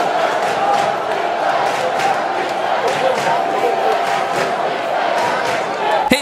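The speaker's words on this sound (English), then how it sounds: "Hey, fans, let us know who you're rooting for and give us a big cheer." A crowd of fans cheers and shouts before a Hot Wheels race, a loud, steady roar of many voices that carries on without a break throughout.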